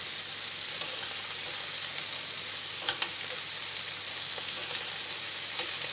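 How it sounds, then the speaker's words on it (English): Butter sizzling in a pan while scallops are basted, a soft continuous frying hiss with a few faint spoon taps, close and even, without talk. "now I'll use a little bit of the butter to baste our scallops"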